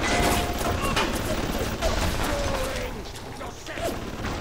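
A turret in the Bioshock video game fires a rapid burst of gunfire, rattling mechanical shots with a voice talking over the action.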